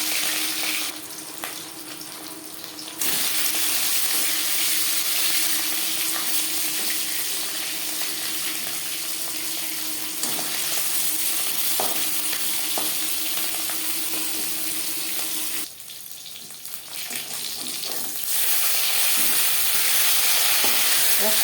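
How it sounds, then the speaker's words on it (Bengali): Marinated fish fries in hot refined oil, a loud continuous sizzle and crackle that holds steady throughout, with brief quieter dips, and no talk. "3 চামচ রিফাইন্ড অয়েল গরম করে নিয়েছি। এবার দিয়ে দেবো ম্যারিনেট করে রাখা মাছ।"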